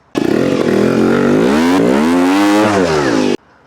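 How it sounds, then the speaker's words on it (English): A Vertigo Nitro JBR 300 two-stroke trials motorcycle is warmed up with one long, loud rev that rises, holds and sweeps back down over about three seconds before cutting off abruptly, heard up close. "warming the bike up thoroughly"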